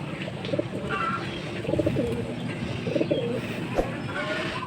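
Racing pigeons coo in a loft, repeated soft throaty calls rising at intervals over steady ambient noise, fairly close and moderately loud.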